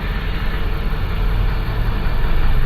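Simulated jet engine spooling up on a Lufthansa A321 during engine 2 start in a flight simulator, a steady loud low rumble and hum that holds and slowly builds throughout, with no talk.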